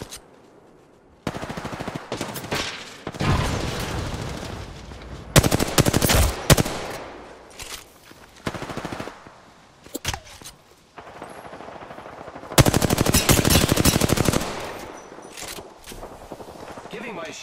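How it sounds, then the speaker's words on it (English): Video game battle gunfire in a ranked match, bursts of automatic fire and shots coming in loud, broken clusters separated by short gaps, with a player talking over parts of the fighting. "I am taking fire, friends."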